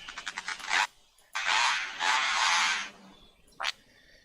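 Several loud, nasal honks from nearby birds, a quick stuttering run followed by longer drawn-out calls and one short final honk.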